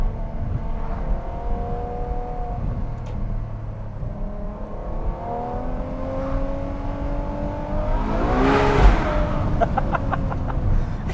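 A Ferrari 812 Superfast with a 6.5 liter V12 revving through rising and falling tones, ending in a sharp burst of downshift blips with rapid crackling pops, loud and close from inside the car.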